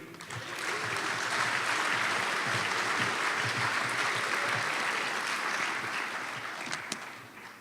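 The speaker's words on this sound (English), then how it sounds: "please a thunderous round of applause for Christina Norris of Oversea Yacht Interiors and Ken Hickling of Sherpa 6'3"" An awards-gala crowd at a yacht design and leadership ceremony breaks into sustained applause for the presenters, a broad, steady roar of clapping that swells in quickly, holds for several seconds, then eases.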